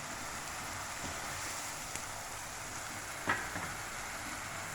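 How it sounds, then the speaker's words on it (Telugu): Onion fries in a pan for a double beans masala curry, giving a steady soft sizzle with a faint occasional pop or stir, quiet and close with no talking. "ఆనియన్ వేసి కొద్దిగా ఇది ఫ్రై అయిపోయిన తర్వాత"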